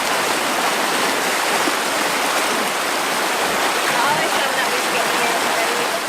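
The river at Island Gully falls in Jamaica rushes in a loud, close, continuous stream of water through a narrow stretch. It is a steady broadband wash with no pauses.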